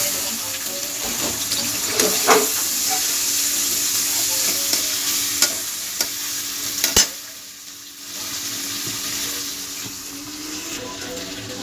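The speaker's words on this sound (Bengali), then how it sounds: "মশলা বাটা একটু একটু করে দিয়ে আগে মাছটা ফোনা করে নেব" Tilapia sizzles in hot oil with a ground spice paste of chili and mixed masala, a spoon stirring now and then with clinks, a running tap, and a brief quieter dip before the frying noise resumes.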